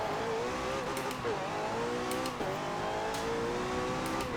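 McLaren Senna engine revving hard as it accelerates past 200 km/h in a Forza Motorsport 7 race at Monza, a steady loud whine climbing in pitch with brief gear-shift dips, alone without talk.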